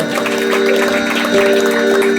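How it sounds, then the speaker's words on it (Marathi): Audience applause for a performer at a devotional bhajan singing contest, a dense steady clapping from a crowd running throughout with a sustained musical tone held underneath. "जोरदार टाळ्या वाजवा त्यांच्यासाठी"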